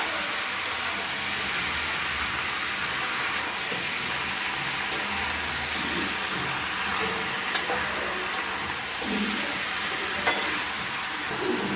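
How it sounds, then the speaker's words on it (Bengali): Desi chicken meat sizzles steadily in hot oil in a pan while being stirred, a constant close frying hiss with occasional faint scrapes and knocks, no talk. "এবার মাংসটাকে আমরা ভালো মতো করে নাড়াচাড়া করে নেব"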